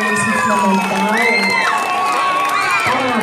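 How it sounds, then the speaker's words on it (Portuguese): Children and adults at a school event cheer and shout loudly after a dance by first- and second-grade pupils, with high whoops and shrieks over a dense crowd. "Salva de palmas aí para os nossos alunos, né?"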